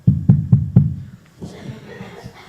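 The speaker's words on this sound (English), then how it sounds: "there was a knock on the cathedral door" Four sharp, heavy knocks on a cathedral door in quick succession, loud and close, followed by softer shuffling and faint background murmur.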